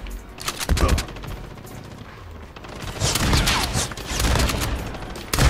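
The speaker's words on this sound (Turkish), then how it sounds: "Sanki pompalı." Repeated shotgun blasts in the mobile shooter Call of Duty Mobile, several loud bursts in quick succession with game battle noise, irregular rhythm across the clip.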